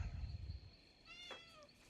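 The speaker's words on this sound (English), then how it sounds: "I hear my kitty cat." A domestic cat lets out a single clear meow partway through, fairly faint and nearby, after a stretch of low rumbling room noise.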